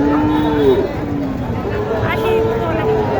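A crossbred heifer lows with drawn-out moos at a busy cattle market in Naogaon, loud and close, while crowd babble and nearby voices continue underneath.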